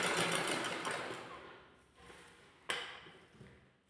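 A sewing machine stitches net fabric along a kurti neckline, running steadily for about two seconds, then easing off, with a sharp clack midway through the quieter stretch.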